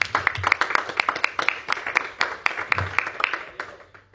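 Scattered, fairly close claps from a congregation applauding during a church sermon, sharp irregular hand strikes repeating across several seconds with a thin room reverberation and no voices.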